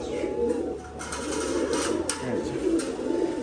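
A female pigeon coos in soft, rounded low calls over steady background noise, with a few brief rustles and clicks from a home pigeon loft on a rainy day.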